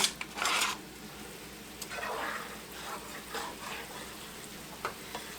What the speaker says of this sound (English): I'm going to put my onions in here and let them cook down some.